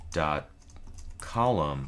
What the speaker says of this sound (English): I'll just start typing in here